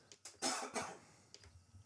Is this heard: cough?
yes